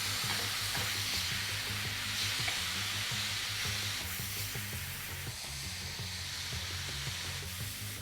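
Marinated flank steak sears in a hot pan with a constant, close sizzle and crackle that holds steady and fairly quiet with no talk.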